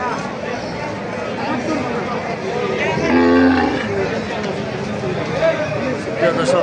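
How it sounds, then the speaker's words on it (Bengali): A cow at a busy cattle market in Thakurgaon lets out one loud moo near the middle, surrounded by a crowd's murmur and someone talking. "কত সুন্দর সুন্দর গরু"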